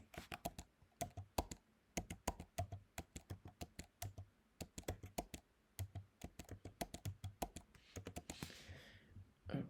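Typing on a computer keyboard during a touch-typing exercise, a long run of quick crisp keystrokes in an uneven rhythm, close and clear in a quiet room, ending with a brief rustle.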